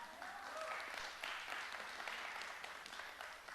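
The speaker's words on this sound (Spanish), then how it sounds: "¿Puede darle usted un aplauso al Señor?" A church congregation applauds, a broad, even wash of many hands clapping at moderate distance, fairly quiet and sustained with little talk over it.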